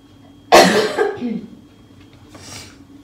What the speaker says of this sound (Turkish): Öksürüğü de ara ara var.